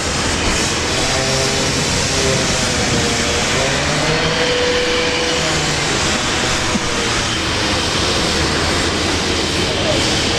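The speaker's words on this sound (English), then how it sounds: "Qantas A330 pilot machine" Qantas A330 airliner engines roar at Brisbane International Airport, a loud, steady broadband rumble that holds for the full stretch, with shifting tonal whines drifting through it and no break in the noise.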